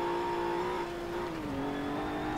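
A car accelerating in Forza Motorsport 7, its engine droning loud and steady with a sustained rising-and-falling tonal whine, close and continuous, no talk over it.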